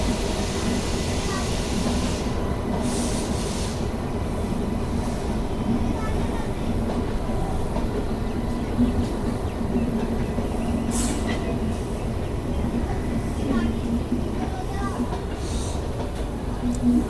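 Dehradun–Shakurbasti Mussoorie Express, an LHB passenger train hauled by a Ghaziabad WAP-7 locomotive, rumbles steadily along with a continuous low roar and faint rhythmic clatter, heard from inside the coach throughout.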